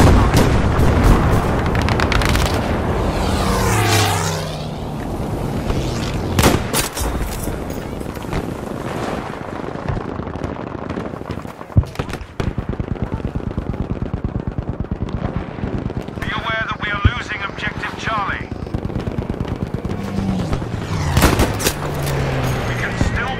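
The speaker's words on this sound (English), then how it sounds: "A machine gunner! One of theirs!" Enemy machine gun fire in the World War II shooter Battlefield V, rapid bursts and booms within a dense battle mix, with voices calling out over the gunfire.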